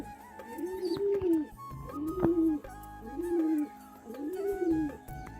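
Pigeons kept at home cooing close by, four rising-and-falling coos repeated at a steady pace over a quiet background.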